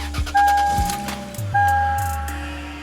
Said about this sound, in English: So I'm gonna go ahead and turn on the car